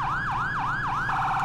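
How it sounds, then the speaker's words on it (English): PA300 police siren from GTA V wails in repeating rising-and-falling sweeps, about four cycles, then switches to a steadier rapid tone, loud and close with no talking. "I changed the siren out. I put the PA300 back in."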